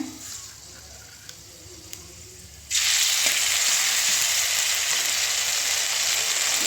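Ginger paste drops into hot oil partway through, a quiet stretch suddenly bursting into a loud, sustained sizzle that holds steady to the end.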